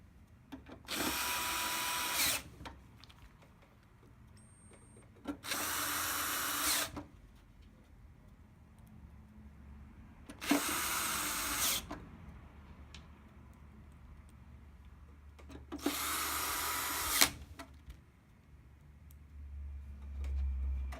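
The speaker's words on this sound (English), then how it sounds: "So we'll go ahead and insert the 6 Torx T10 screws." A power screwdriver drives Torx T10 screws into a TiVo HD power supply in four separate whirring bursts of about two seconds each, spaced by quiet pauses with faint handling.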